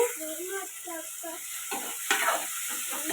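Boiled tomatoes frying with ginger and garlic in a pan, a steady sizzle with a spoon stirring and scraping, while someone talks over the cooking.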